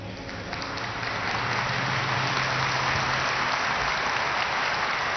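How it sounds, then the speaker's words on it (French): Large crowd of Lebanese faithful applauding inside a basilica during a consistory creating new cardinals, a dense, steady roar of clapping filling the reverberant space for the whole stretch, loud and sustained without a break. "Ils sont nombreux, les Libanais, dans la basilique venus applaudir Béchara Boutros Rai"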